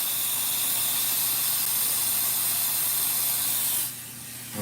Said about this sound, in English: Place that inside there, and all that hot water and steam will kind of clean that right off.